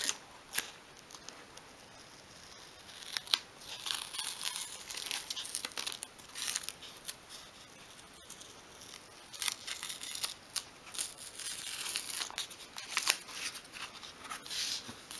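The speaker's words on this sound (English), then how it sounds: "And then really carefully remove the masking tape." Masking tape peeled slowly and carefully off a glued craft storage trunk, heard as close, intermittent crinkling and light tearing rasps with short pauses between pulls and no voices.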